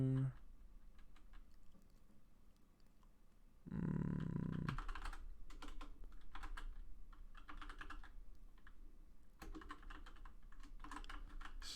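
Keys clatter steadily on a computer keyboard while JavaScript code is typed, quick bursts of close, crisp clicks with short pauses and a brief louder low thump partway through.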